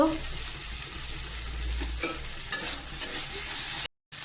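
Ground garlic and ginger paste frying with onion sizzles in a pan, with a few sharp scrapes of a spatula stirring, close up and with no voices; a short dropout comes near the end.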